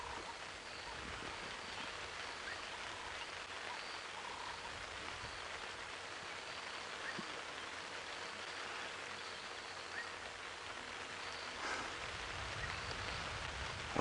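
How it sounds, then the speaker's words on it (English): Rain falls steadily on an open safari drive in the bush at dawn, a soft, even hiss throughout with occasional nearer drops and no talking. "It has decided to start raining a bit harder now."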